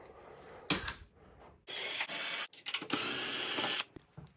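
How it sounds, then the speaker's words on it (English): A power drill backs screws out of the bottom of a Wolf range oven door, running in two long steady bursts with short whirring pulses and clicks between them, close and fairly loud. "We're going to remove these screws from the bottom of the door."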